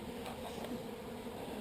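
Honey bees from a hive in a breezeway roof, a steady, dense buzzing held at an even level throughout, close by and unbroken.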